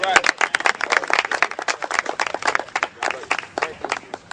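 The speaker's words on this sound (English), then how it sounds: "give Bobby Flay a big round of applause" Crowd at an outdoor grilling event with a president applauding Bobby Flay, close irregular clapping bursts mixed with cheers and voices, fairly loud throughout.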